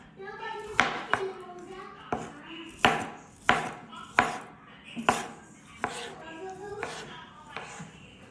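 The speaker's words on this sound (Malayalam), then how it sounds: "ഡ്രാഗൺ നമ്മൾ കട്ട് ചെയ്യാൻ പോകുന്നു" A knife chops through dragon fruit on a board while making a fruit and vegetable salad, about a dozen sharp, close knocks in an uneven rhythm, with a voice talking between the cuts.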